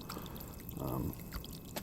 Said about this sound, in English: made a little dam to stop the water from flowing so hard